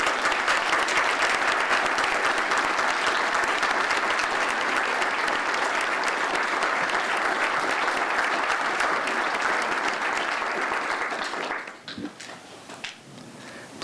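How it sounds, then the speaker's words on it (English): Sustained, dense audience applause for deployed Illinois National Guard soldiers of an aviation regiment detachment, loud and steady for about eleven seconds before tapering off into scattered claps and quiet room noise. "Please give them a round of applause."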